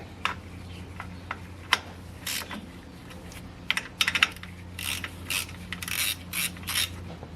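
A ratchet snugging a belt tensioner bolt on a BMW E36 serpentine belt system: scattered clicks, then quick clusters of ratcheting strokes, close and moderately quiet, with no voices.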